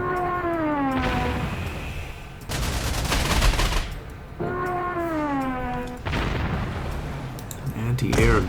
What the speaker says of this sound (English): Anti-air gun.